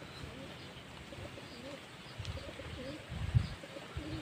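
Pigeons coo softly at a domestic loft on a rainy monsoon day, low murmuring calls building to a slightly louder burst near the end over steady background noise.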